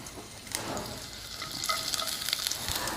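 Finely chopped ginger and garlic fry in a little oil in a kadai, giving a steady, close crackling sizzle with brighter spits and pops scattered throughout and no voices.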